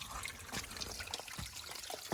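Water trickles and dribbles at a trail water source on the Pacific Crest Trail, a soft continuous splashing flow with small drips, close by and fairly quiet, with no talking.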